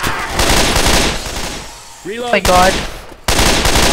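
Gunfire from survivors in the Left 4 Dead 2 co-op zombie shooter, bursts of loud close shots packed into the opening and closing stretches, with a voice calling out over a brief lull in the middle.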